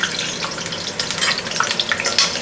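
Onion sizzling in about three quarters of a cup of hot oil for a Michoacán-style pork adobo: a constant crackling hiss with scattered sharper pops, close and fairly loud, with no talking.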